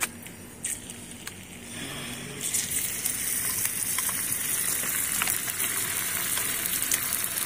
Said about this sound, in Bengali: তেলের মধ্যে আমি এখন এই চিকেন গুলোকে দিয়ে দেবো।